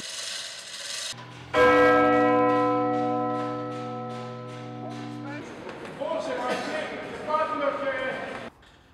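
The Decker Pitter, the large bell of Cologne Cathedral, rings with a deep tone and a long sustained hum from about one to five seconds, then fades into mixed clanking and background noise.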